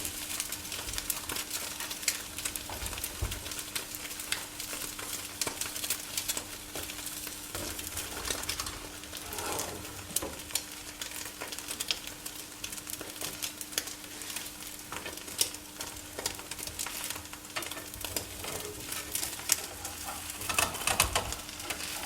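An omelette for gimbap fries in a pan, a soft continuous sizzle with faint crackles running steadily throughout, fairly quiet and close, with no voices.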